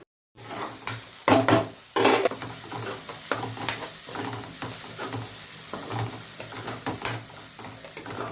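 Sliced onions fry to a deep red in a pan, a continuous sizzle broken by loud scraping stirs of a spoon against the metal, close and without speech.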